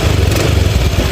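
A Honda Beat FI scooter engine runs with a steady, close, buzzy putter and slight rhythmic pulsing over a brief stretch, with no voices.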